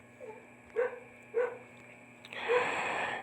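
A dog barks two sharp times about half a second apart, then gives a longer, rougher bark-like sound, heard indoors at moderate distance over a faint steady hum.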